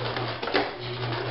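A machine motor hums steadily with a faint mechanical whir as it stitches, close and continuous.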